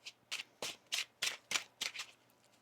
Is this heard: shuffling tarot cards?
yes